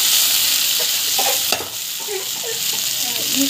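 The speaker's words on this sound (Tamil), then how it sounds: "ஆட் பண்ணிவிட்டு நல்லா வந்து வதக்கி எடுக்கோங்க." Garlic with asafoetida sautés in a pan, a loud continuous bright sizzle with a few soft stirring scrapes and clinks scattered through it, close by, with no voices.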